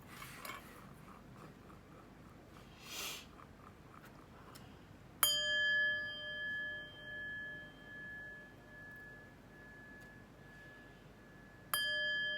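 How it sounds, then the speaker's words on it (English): Two bright chimes ring out with long sustained tones that linger and slowly fade, the second arriving near the end, over a faint background hiss and a few soft knocks before the first strike. "let's chime"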